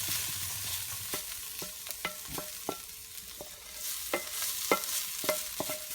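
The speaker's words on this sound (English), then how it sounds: "get that spinach mix out of that pan" Spinach mix scooped and stirred out of a frying pan, with scattered scraping clicks and soft utensil knocks over a low steady sizzle, close and moderately quiet.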